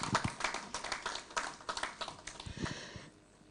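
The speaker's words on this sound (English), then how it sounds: "May we give him a round of applause again." A small audience at an event claps for a speaker: scattered, fairly faint individual claps in an uneven rhythm that thins out and fades near the end.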